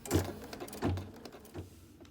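An embroidery machine stitches lettering onto a greeting card, giving three soft mechanical thumps about three quarters of a second apart, close and fairly quiet.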